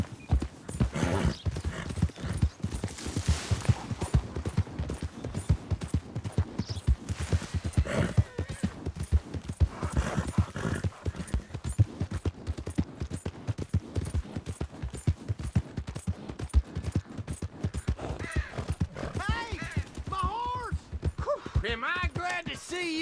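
Steady, rhythmic clip-clop of horse hooves at a brisk pace while riding in Red Dead Redemption 2, continuing evenly for over twenty seconds, with a brief whinny and occasional background sounds.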